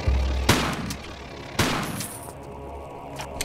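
Gunshots ring out in the Tomb Raider level Egypt and Beyond: two loud, sharp reports about a second apart, each trailing off, then a fainter shot near the end.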